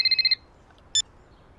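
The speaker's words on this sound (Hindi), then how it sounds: "चित्रगुप्त फोन उठा।" A phone rings with a quick series of electronic trills that stops abruptly, followed by quiet and one brief beep.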